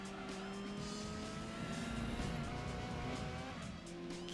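A Mugen Civic race car in Gran Turismo 2 braking hard into a hairpin, with a steady engine drone and a sustained tire squeal as it slows, fairly quiet and without talk.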